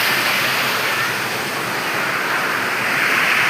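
Water pouring down a waterfall at a scenic lake spot, a loud, steady broadband rush that fills the whole clip without a break, up close and with no voices over it.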